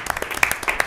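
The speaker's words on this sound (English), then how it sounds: "Round of applause." Brief scattered applause from attendees at a town Board of Selectmen meeting, a short burst of claps in a meeting room.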